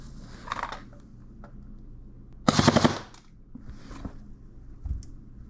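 An SSE18 Gen 1 airsoft gun with a 100-round stick magazine fires one loud, rapid full-auto burst of about half a second, set between quieter clicks and handling noises.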